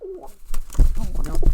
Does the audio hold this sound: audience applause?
no